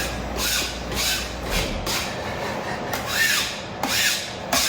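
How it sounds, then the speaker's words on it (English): Propolis is scraped off a honey house floor with repeated rough, rasping strokes, a steady close-up scratching texture with a few squeaky pulls. "Not everybody shows scraping propolis off of the honey house floor."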